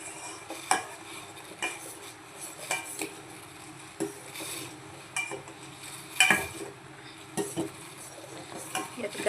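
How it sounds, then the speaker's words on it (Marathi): Urad dal papad dough being mixed in a large pot, with repeated scraping and clinking of a utensil against metal in irregular bursts, moderately close. "म्हणून आपल्याला थोडंसं मोठ्या पातेल्यातच हे मिक्स करण्यासाठी घ्यायचं आहे"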